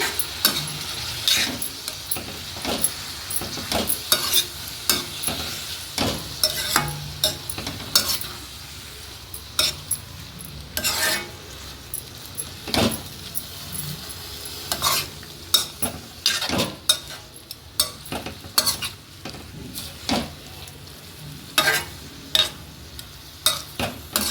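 Amaranth leaves and dried prawns are stirred in a frying pan, a steady run of scraping spatula strokes over a soft continuous sizzle, close and moderately loud with no talking.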